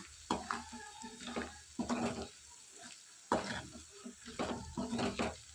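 Garam masala, coriander powder and cumin powder frying with chicken in a pan for chicken pickle, heard as faint sizzling and stirring in short separate bursts with quiet gaps between them.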